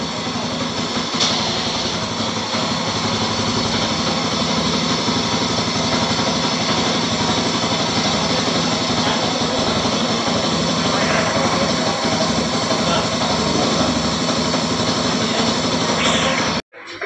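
A new tractor engine runs steadily as it reverses out of a showroom, a loud continuous diesel drone with a constant hum, then cuts off abruptly at the end.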